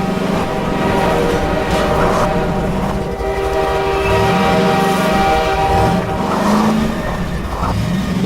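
A train rumbles past at close range in the Half-Life 2 video game, its loud horn blaring in sustained tones over heavy, continuous rolling noise of wheels and cars.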